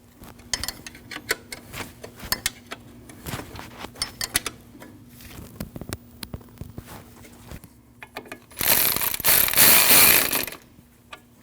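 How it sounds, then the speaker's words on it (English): A ratchet clicks in quick, uneven bursts while 10mm bolts are tightened on a 2003-2008 Subaru Forester 2.5L engine. A loud, steady rushing noise then lasts about two seconds before it stops. "Install your 10mm bolt and tighten both."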